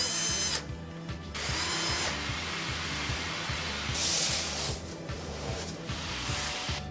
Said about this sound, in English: We screw the templates down.